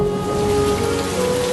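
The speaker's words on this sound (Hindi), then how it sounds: "बिजली कड़कती है और तेज बारिश शुरू हो जाती है।" Heavy rain pours steadily in a storm, a dense even hiss close by with no clear thunder crack standing out, and no voices over it.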